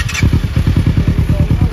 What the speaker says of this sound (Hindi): ये हमारा आइडलिंग साउंड है एग्जॉस्ट का,